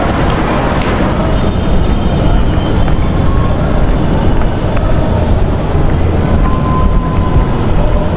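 An LRT light-rail train rumbles loudly at an evening station, a continuous heavy roar with steady broadband noise filling the platform throughout.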